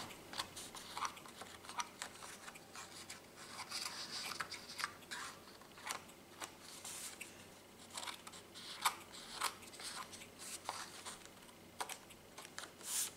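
Small scissors cut paper while autumn cards are being made for scrapbooking, giving quiet, close, irregular snips and rustles with soft handling noises in between.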